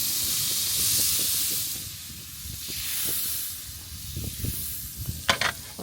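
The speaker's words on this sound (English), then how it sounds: "I'll just let this butter sizzle." Butter sizzles and hisses in a hot pan, a steady crackling fizz with small pops, rising briefly into sharper spatters toward the end.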